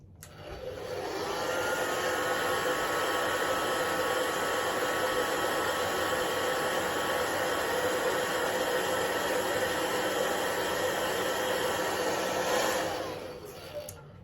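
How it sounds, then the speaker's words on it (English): A blow dryer roars steadily at close range for about twelve seconds, a constant airy whir that starts up and cuts off cleanly. "I'm gonna use the blow dryer really quick to dry this"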